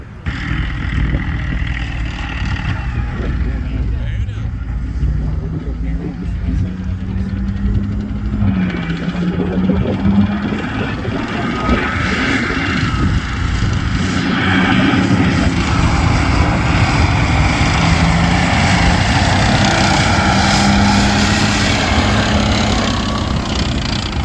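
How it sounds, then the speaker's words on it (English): A Strv 102 tank rumbles past at a visitors' day at the P7 armored regiment, its tracks clattering over a Merlin engine, a loud continuous low drone with rising and falling engine pitch and no speech. "Then came the 102 rumbling, and somehow the noise from the tracks managed to drown out the sound from the Merlin engine."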